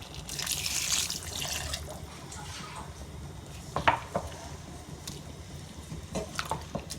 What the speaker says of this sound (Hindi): एक कप पानी डालेंगे।